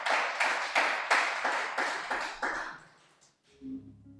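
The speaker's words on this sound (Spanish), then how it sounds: "¿Qué tal si usted le da una ofrenda de aplausos al Señor por esa palabra?" A church congregation claps together in a slow, even rhythm of about eight loud unison beats, then breaks off into quiet with a low hum of instruments.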